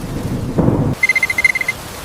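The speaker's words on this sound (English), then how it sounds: "Now, let's watch the storm." A thunderstorm with rain gives a brief, close rumble of thunder over a rain wash for under a second, then the sound cuts off abruptly.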